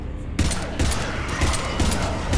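Sci-fi weapon fire from the video game Mass Effect 3: dense, loud bursts of rapid shots in close succession, starting after a brief quiet moment and continuing with rhythmic volleys.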